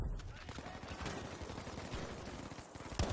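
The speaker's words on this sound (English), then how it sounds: "Suppressing fire!" Suppressing fire in Battlefield V keeps up as a continuous clatter of rapid gunshots, fairly quiet and a little distant, with a heavier burst right at the end.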